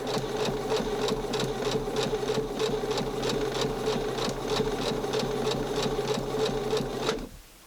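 A small sewing machine stitches doll clothes for a Barbie in one steady, rhythmic run, close and clear, then halts abruptly near the end, with no talking.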